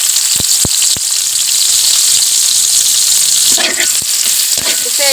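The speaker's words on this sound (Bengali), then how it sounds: "তেল গরম হয়ে গেছে, এখন আমি পেঁয়াজ কুচি দিয়ে দিতেছি।" Chopped onions hit hot oil in a pan for a papaya and tilapia curry, giving a loud, continuous close sizzle. Occasional sharp clicks and scrapes of a utensil stir through it.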